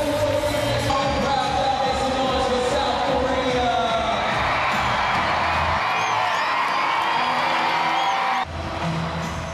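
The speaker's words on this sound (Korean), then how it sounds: "자신의 나라가 아니더라도 모두들 참가팀들의 퍼레이드를 환호하며 맞이한다" Crowd at the DI youth creativity competition cheering as international teams parade in, a dense continuous roar of voices, whoops and shouts with a narrator talking over it.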